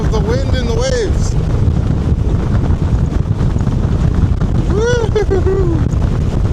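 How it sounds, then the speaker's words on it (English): Strong wind buffets the microphone over crashing waves on Georgian Bay, a loud continuous roar with gusts, while a person speaks over it. "here, I have some views of the wind and the waves."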